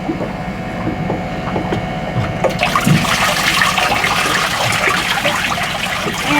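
Water rushing and gurgling as a bilge pump empties a boat, a continuous splashing flow that swells after a couple of seconds and stays loud and close.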